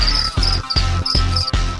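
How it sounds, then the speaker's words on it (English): Crickets chirp loudly and close, a rapid pulsing trill in regular bursts repeating without pause, around an apple. "40 crickets were sent in to attack the Apple"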